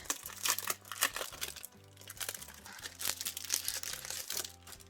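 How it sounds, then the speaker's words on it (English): Sheets of Oh So Ombre cardstock paper handled and rustled at close range during box crafting, with repeated crinkling, sliding and crackling bursts throughout. "we're going to take a piece of that Oh So Ombre paper"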